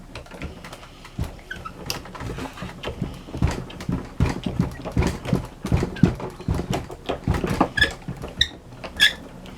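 A die-cutting machine used for card making gives repeated squeaks and creaks in an irregular rhythm, with clicks and thumps over about ten seconds and no talk.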